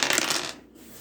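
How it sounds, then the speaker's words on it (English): Dice are rolled for a board game: a brief, bright clattering burst that fades quickly into near silence within about half a second. "So we're gonna roll"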